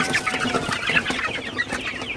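Several Sonali chickens cluck and murmur close by in a busy, overlapping chorus, with short rhythmic calls over a low background hum.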